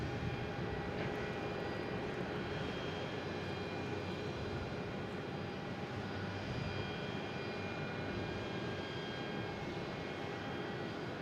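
An Iberia airliner passes at Boston Logan International Airport, a steady, broad engine roar holding evenly throughout at moderate distance, with no talk over it.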